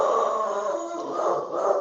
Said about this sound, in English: Apparently the dog takes great umbrage.